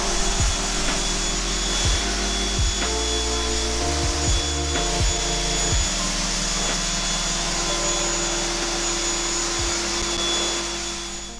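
Pressure washer spraying down a BMW F80 M3 during a car wash, a steady loud hiss with motor hum underneath that pulses and cuts in and out as the trigger is worked, no voices.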